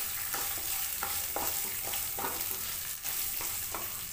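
Chopped ginger fries in a pan, a soft steady sizzle broken by repeated scraping stirs at a regular pace, fairly quiet and close.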